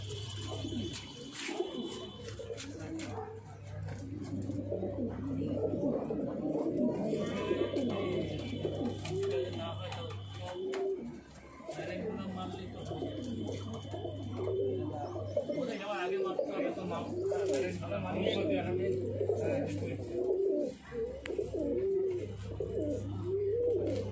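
Madrasi pigeons coo repeatedly in a loft in Barrackpore, Kolkata, their soft rolling calls close and continuous while people talk over them.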